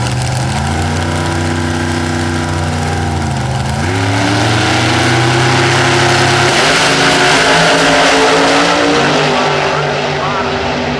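A vintage 1957 Chevrolet Bel Air drag racing car at an IHRA drag strip revs its engine loudly and continuously, pitch rising and shifting through gears, while an announcer talks over the roar.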